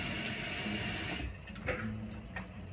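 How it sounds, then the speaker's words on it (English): Tap water runs steadily into a cooking pot while making carne con chile, a broad continuous rush that ends abruptly, followed by a few light clinks and splashes in the quiet kitchen. "Actually, I'm gonna add a little bit of water."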